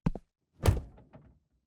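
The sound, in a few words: door slamming shut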